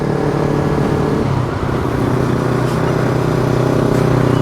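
Kawasaki Ninja 300 motorcycle ridden on a road, its engine holding a steady, loud drone throughout with a low hum and faint wind noise, no talk.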